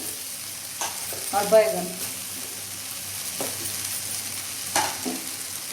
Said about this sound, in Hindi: तेज आंच करके इसको अच्छे से भून लेंगे